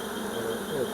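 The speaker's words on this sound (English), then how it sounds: "This is a big colony. Thousands of bees in here." Honey bees from a large, crowded hive colony in a Nigerian bee farm, a dense, steady buzzing drone close by, with a faint voice in the background.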